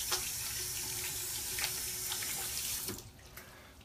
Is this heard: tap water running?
yes